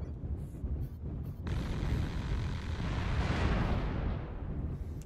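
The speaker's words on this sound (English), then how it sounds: "Warning, incoming missile." A missile strike in a mech combat game, likely from an LRM-15 launcher: a broad, roaring explosion swells after a few brief pops and rumbles steadily for several seconds at moderate distance.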